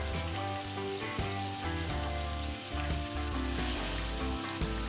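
Steady, dense sizzling of cumin seeds frying in hot oil in a pan, continuous and close throughout, with faint clinks and no talking.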